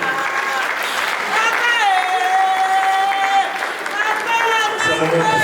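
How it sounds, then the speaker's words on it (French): An audience applauds at a memorial tribute in Kinshasa, with sustained, dense clapping from a crowd throughout and a voice ringing out above it partway through. "Est-ce que nous pouvons continuer à applaudir pour l'encourager?"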